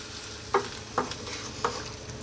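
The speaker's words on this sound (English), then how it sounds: "I'm going to get in now 1 pint of stock." Stock poured into a hot pan for chicken noodle soup, giving a steady bubbling sizzle with three distinct clacking stir strokes spaced about half a second apart.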